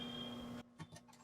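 A sewing machine stitches fabric for a folding tote bag, giving a steady close whirring run that cuts off abruptly, followed by a few soft clicks and taps.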